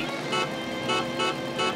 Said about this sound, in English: Pressing the sticks will make the horn honk.